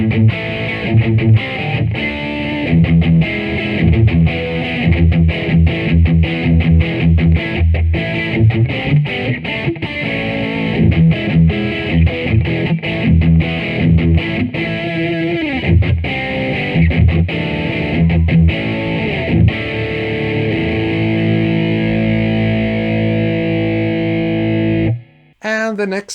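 Overdriven electric guitar runs through a Boss Blues Driver and a JHS Angry Charlie pedal, with lighter gain on the Angry Charlie, playing loud chords and riffs continuously for about twenty-five seconds, then stopping abruptly.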